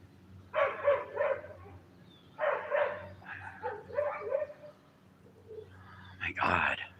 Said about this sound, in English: Sounds like a big angry dog.